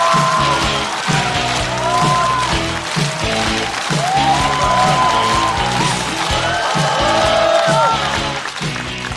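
Comedy club audience applauding and cheering for a stand-up comedian, dense sustained clapping with whoops and shouts rising above it, loud and continuous throughout.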